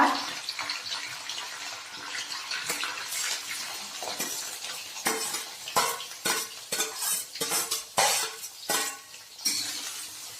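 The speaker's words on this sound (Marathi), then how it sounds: "कांदा छान परतून घ्यायचा आहे।" Chopped onion frying with bay leaf, cinnamon and curry leaves for biryani rice, a soft sizzle under repeated scraping stirs and metallic clinks of a spoon against the pot; no talking.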